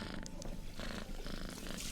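A cat purrs steadily at close range in the video game The Beekeeper's Picnic, a low continuous rumble lasting the whole moment with no talking over it.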